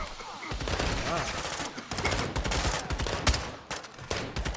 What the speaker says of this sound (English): Shot him in his leg, Matt.